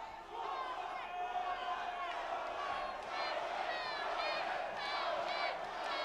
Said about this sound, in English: As you can hear, the crowd is electric.